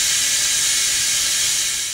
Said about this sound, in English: I heard somebody using the steam thing to clean a jug out